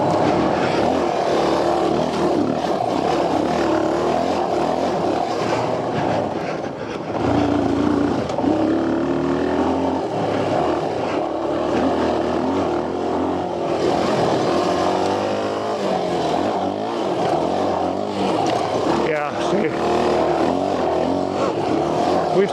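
A Honda XR250R dirt bike engine roars loudly and continuously on a rough test ride, its pitch rising and falling with the throttle, with a brief dip in the middle, close and dominant throughout.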